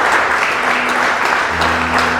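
Church congregation applauding during a worship service, a dense steady clapping from many hands filling the whole moment, with a sustained musical tone underneath.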